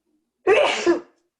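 One loud, close sneeze, a sharp explosive burst with a brief trailing second puff, alone in otherwise silent surroundings.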